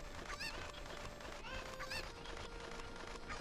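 Cucco chickens from Ocarina of Time cluck and squawk in short bright bursts over steady game background music, a few repeated calls heard at moderate loudness.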